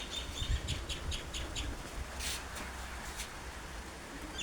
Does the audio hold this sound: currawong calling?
yes